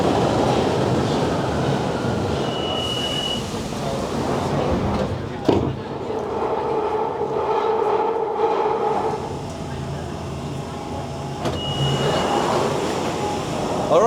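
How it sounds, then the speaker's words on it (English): A London Underground train at Tottenham Court Road roars loudly and steadily through the tunnel, with a high-pitched wheel squeal at times and faint voices under the rumble. "these trains are so loud"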